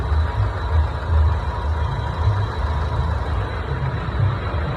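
A truck engine idles and rumbles nearby at night outside a warehouse, a steady low drone with slight pulsing, and no voices.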